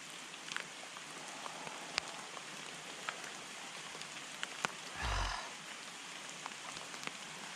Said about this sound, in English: Rain's picked up